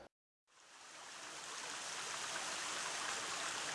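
Water rushing through an old 1800s hydraulic-era sluice box, washing blue clay down; a steady, broadband gush that starts abruptly after a brief silence and holds loud and even to the end.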